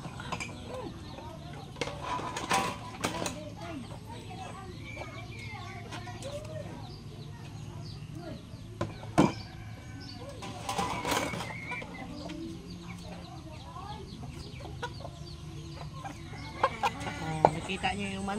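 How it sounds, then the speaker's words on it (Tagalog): Chickens cluck intermittently on a provincial farm, with scattered close clucks and a few louder calls over a low background, occasional clinking of dishes and brief voices nearby. "Nakita niyo yung manok. Maraming manok sila dito."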